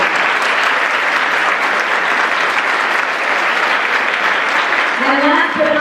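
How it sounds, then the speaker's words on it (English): A large crowd at a 2014 celebration event applauds parents and families with steady, dense clapping that holds for several seconds, and a voice begins speaking near the end. "please give them a huge round of applause"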